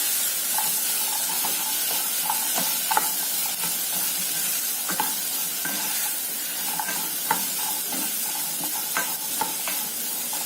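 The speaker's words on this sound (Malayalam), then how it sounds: "ഇഡ്ലി കൂടെ ആഡ് ചെയ്ത് കൊടുക്കുക. നല്ലവണ്ണം മിക്സ് ചെയ്ത് കൊടുക്കുക." Leftover idli is stirred into a frying mixture in a pan to make an Idli Kurkure snack, giving a steady close sizzle and hiss broken by repeated scraping stir strokes, with no talking.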